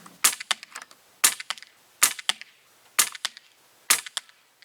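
Umarex APX air gun firing Crosman Wadcutter 7.4 grain pellets: five sharp, evenly spaced shots about a second apart, each a crisp pop followed by quick mechanical clicks, close and clear with no talking.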